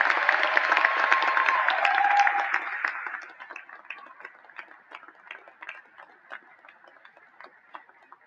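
Applause from an audience at a graduation ceremony for the class of 2026, a dense clapping crowd for about three seconds that thins into scattered, fading claps.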